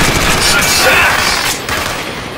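Rapid gunfire from the Rambo arcade shooter, a loud, dense continuous fusillade of automatic shots that fills the whole stretch, with game sounds layered over it.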